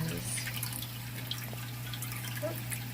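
Water flows out of the outlet of a Penn Plax Cascade 1000 canister filter into an aquarium, making a soft, faint trickle and light drips over a constant low electrical hum.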